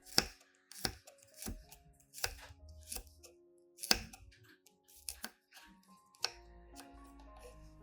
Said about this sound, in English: First, use 3 cloves of garlic. Then, chop them into small pieces.